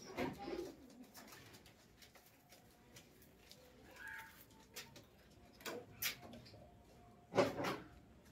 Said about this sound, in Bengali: দেখুন, এটা একটা নর পায়রা